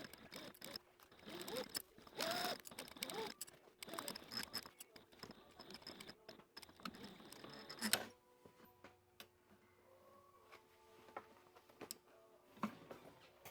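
A sewing machine stitching the seams of a leather vest with thick thread and a size 16 needle, a quiet, fast ticking run that halts partway through, followed by faint scattered clicks.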